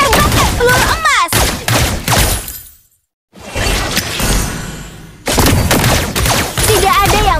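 Golden bullet gunfire from Layla's skill in the MLBB mobile game: loud bursts of rapid game shots and impact effects, broken by a sudden silent gap, with game announcer voices mixed in.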